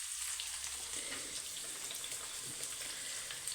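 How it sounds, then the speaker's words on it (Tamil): Fish curry, with the fish not yet added, simmers and sizzles in a pan, a soft continuous crackle and bubbling heard close up at low volume. "பாருங்கள், குழம்பு ஆகிக்கொண்டே இருக்கிறது"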